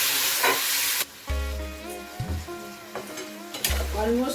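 Cauliflower, potato and tomato are stir-fried in a pan, with a close, loud sizzle broken by spatula scrapes and clatters against the pan in uneven bursts.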